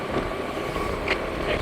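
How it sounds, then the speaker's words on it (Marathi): A rented Honda Activa scooter rides along the road to Guru Shikhar in Mount Abu, giving a steady, continuous engine drone mixed with wind rush across the microphone, with no pauses. "आणि ही रेंटेड स्कूटर आहे"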